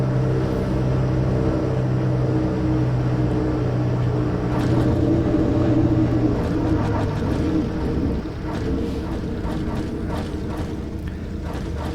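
A single-engine aircraft engine drones in the X-Plane flight simulator, a steady close rumble with a constant tone throughout.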